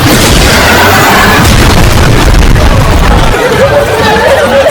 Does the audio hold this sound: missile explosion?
yes